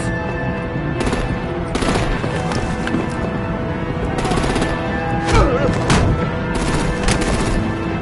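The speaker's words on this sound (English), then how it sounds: "Break out the artillery and disable their vehicles!" Rapid bursts of artillery gunfire erupt repeatedly in a Batman video game battle, sharp volleys recurring every second or two over a steady loud backdrop of game noise and score.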